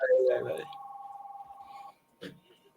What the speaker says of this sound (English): The phone lines is going off.